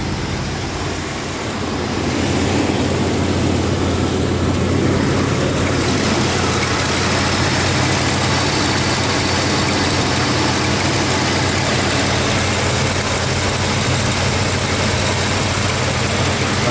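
A 1984 Oldsmobile Cutlass Supreme with a 307 5.0 V8 starts up and settles into a steady, loud, close idle with a constant rumbling drone and no talk.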